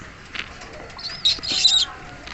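A pigeon takes short flight, giving a few soft wingbeat flutters, then a louder burst of flapping wings close by, with faint chirps and quiet room noise around it.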